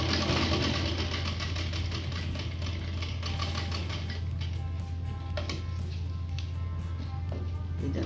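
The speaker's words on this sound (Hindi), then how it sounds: "यहाँ से ऐसे इसके बुकरम के चारों तरफ हम कच्ची तरह से एक कच्ची सिलाई" A sewing machine runs a steady basting stitch around buckram, a continuous low mechanical hum with fast rhythmic ticking, close and moderately quiet throughout with no talk.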